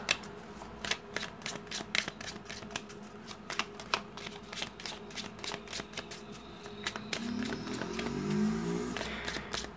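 A Gypsy (cigano) deck of cards shuffled by hand, crisp riffling clicks and snaps repeating through the clip, close and fairly quiet, with a soft murmur of background noise toward the end.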